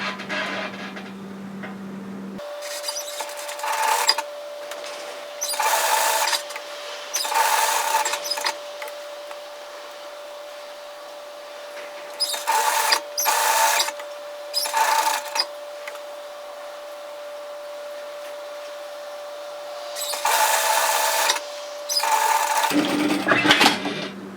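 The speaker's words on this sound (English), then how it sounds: "So I'm going to finish mine off with an overlocker" An overlocker finishing the seam edges of fabric for a varsity-style bomber jacket runs in several short, steady bursts of rapid stitching, with pauses between them and a constant faint hum underneath.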